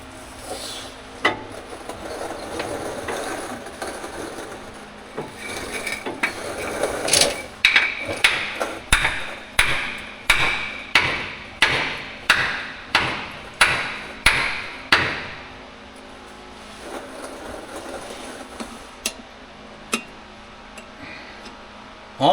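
A hammer taps a socket into place during a clutch replacement on a truck with an Eaton Endurant 12-speed transmission, about fifteen evenly spaced sharp metallic blows near and loud, with rustling between.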